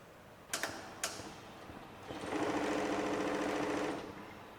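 An industrial sewing machine gives two quick mechanical clicks, then runs a short burst of rapid even stitching that hums for about two seconds before stopping, close and clear in a quiet room.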